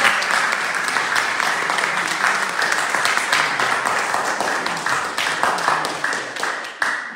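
A church audience applauds, dense continuous clapping that stays loud and close for the whole stretch, tapering slightly at the end.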